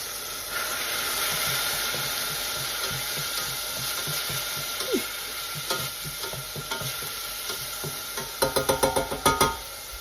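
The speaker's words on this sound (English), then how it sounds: "now let this saute for just a couple minutes" Food sautéing with dried Italian seasoning in a cast-iron skillet, a close steady sizzle and hiss with soft rhythmic stirring scrapes, ending in a quick run of sharp utensil clicks against the pan.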